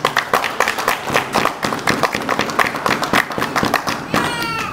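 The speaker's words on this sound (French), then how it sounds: "je demande pour Vision Céleste à applaudir Maestro pour nous" A church congregation applauds a maestro at a Sunday service, with steady rhythmic clapping from many hands, close and fairly loud, over a continuous murmur of voices.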